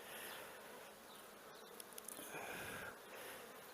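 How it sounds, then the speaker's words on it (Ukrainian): A dense, steady buzz of many honeybees at a hive close by, continuous throughout with no voices. "Тут і з пилком бджілки ходять"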